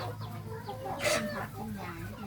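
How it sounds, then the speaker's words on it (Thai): Gamecock chickens of a good fighting breed cluck on a farm, a few close, short calls rising above a steady outdoor background, with someone talking over them. "ไก่ชนพันธุ์ดีเนาะจ้ะ บ่มันไก่บ้านเด้ค่ะพี่น้อง"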